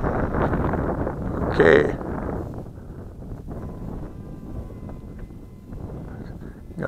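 Steady wind buffets the microphone outdoors while an RC airplane, a WLToys F959 Sky King, is flown, with a brief gust peak and one short spoken word.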